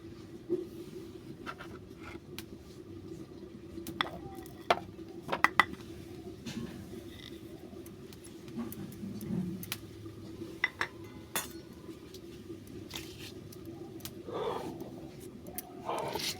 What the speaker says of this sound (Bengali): এরপর মশলাগুলো আমি সব আলাদা আলাদা করে বেটে নিচ্ছি